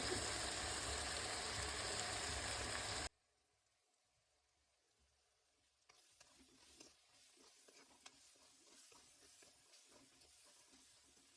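Whole spices, including black cardamom seeds and red chili, hiss loudly in hot oil for a few seconds for chana palak. After a near-silent gap, faint sizzling and light stirring continue.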